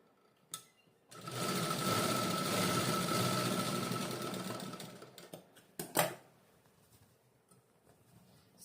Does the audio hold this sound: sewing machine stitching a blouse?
yes